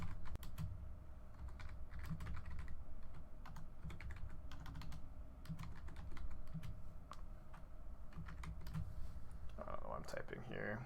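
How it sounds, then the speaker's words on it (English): Typing on a computer keyboard during an online Magic: The Gathering match, steady close clicking keystrokes running throughout at a fairly quiet level, with a voice talking over it. "Typing here."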